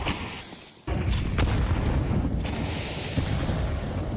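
Dull booms and blasts from grenades going off in Counter-Strike on the Inferno map, a dense, loud rumble that kicks in abruptly after a brief lull and rolls on continuously.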